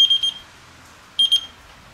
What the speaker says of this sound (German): Mach mal einen Alarm wieder aus und gut ist.